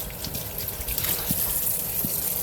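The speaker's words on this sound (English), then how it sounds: "Now we're going to add water." Water pours steadily into a cooking pot, making a continuous gushing, splashing stream at close range with no talk over it.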